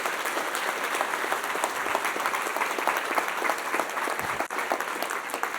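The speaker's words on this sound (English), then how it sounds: "So how about a round of applause?" Sustained applause from a large university audience at a state-of-the-university address, a dense, even roar of clapping hands that stays loud throughout without speech.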